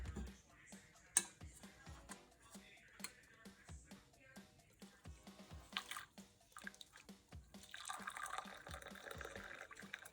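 Hot lemongrass and lime drink is strained in a kitchen, with soft liquid drips, splashes and small clinks of utensils trickling in irregular bursts, building into a steadier pour near the end.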